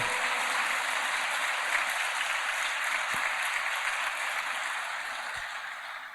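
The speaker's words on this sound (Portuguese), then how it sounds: "E aplauda Ele e diga: obrigado, Jesus" Steady, sustained applause from a church congregation fills the clip, dense clapping at an even level that fades slightly toward the end.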